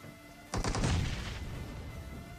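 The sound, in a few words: cooked grenade exploding in a shooter video game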